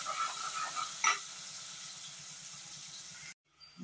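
Chopped onions and tomatoes sauté in a hot pan with a steady, fairly quiet sizzle and a faint clink partway through, then the sound cuts off abruptly near the end.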